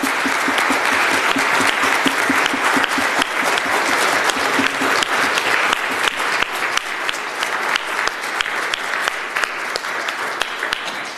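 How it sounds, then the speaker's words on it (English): A church congregation at a Presbyterian worship service applauds a retiring custodian, sustained loud clapping from many hands that fades slightly toward the end. "Can we thank Albert for his years of service for us"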